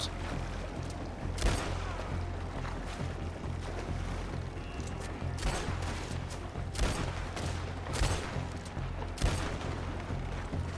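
Sustained gunfire in Red Dead Redemption II during an attack on Fort Wallace, with repeated sharp shots and bursts over a constant rumbling battle background, loud throughout.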